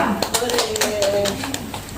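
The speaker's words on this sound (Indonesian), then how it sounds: "Tepuk tangan dulu sebelum Bu Sesi membacakan teks Pancasila." An audience claps hands at an Indonesian Independence Day celebration in Tegal, a brief burst of scattered applause with a voice and chatter mixed in.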